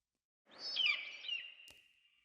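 A harsh, drawn-out bird cry stands in for an eagle's screech in a flip book sound effect, rising sharply then trailing off alone, clear and close, with a brief click near the end.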